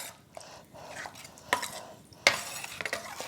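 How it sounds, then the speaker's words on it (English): A spoon stirs meat sauce together in a pot, making soft wet mixing sounds punctuated by a couple of sharper scrapes against the side, fairly close and quiet. "And then I'm going to just mix this up together."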